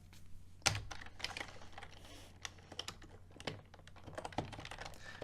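Keys on a computer keyboard are tapped in quick uneven bursts while code is entered, close and quiet with no talk.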